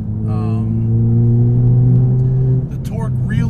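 Tuned Ford Fiesta ST hot hatch on 100 octane accelerating hard, a loud steady engine drone that rises then drops sharply near the end as the revs fall, with a voice talking over it.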